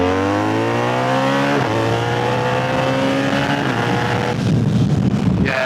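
A BMW R1300GS motorcycle fitted with a Black Widow exhaust revving up through rising engine pitch, a brief drop, then climbing again to a louder, rougher roar near the end, close and powerful, with no talking.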